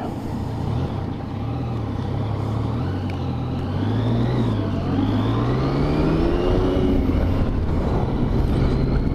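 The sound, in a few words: road traffic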